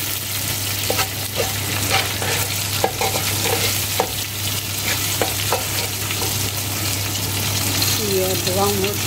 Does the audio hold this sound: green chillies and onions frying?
yes